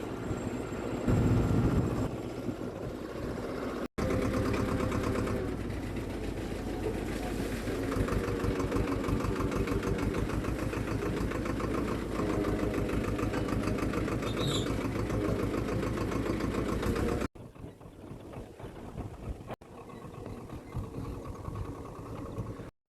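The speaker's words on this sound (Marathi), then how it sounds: "आता निघलेलो आहे आम्ही ट्रॅक्टर घेऊन" A tractor engine runs steadily while being driven to a farm with a custard apple orchard, a loud, continuous low rumble with rattling throughout, briefly interrupted and then continuing at a slightly lower level near the end.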